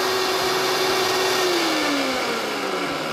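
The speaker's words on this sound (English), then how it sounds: "It's probably the loudest blender that I've ever heard." A Vitamix E320 Explorian blender whirs loudly and continuously at high speed, its motor pitch steady and then dipping slightly toward the end.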